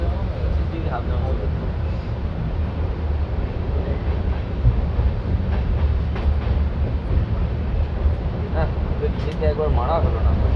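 A Jan Shatabdi Express passenger train rolls into Howrah with a loud continuous rumble and faint rhythmic wheel clatter, while people talk intermittently in the background of the coach.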